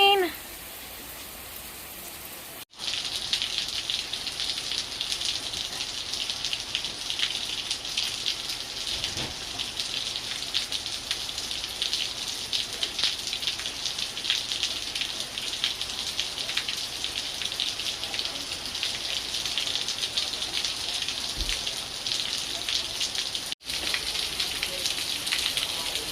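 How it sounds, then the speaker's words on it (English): Steady rain falls outdoors in Ewa Beach on Oahu, Hawaii, a dense continuous patter on surfaces that starts abruptly and holds at an even, close level. "Damn, rain."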